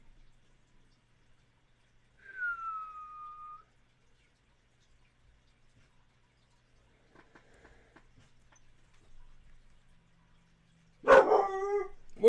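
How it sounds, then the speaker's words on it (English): A dog lets out a single sharp, loud bark near the end, after a brief whining tone and a long stretch of near silence in a quiet room. "What are you barking at, buddy?"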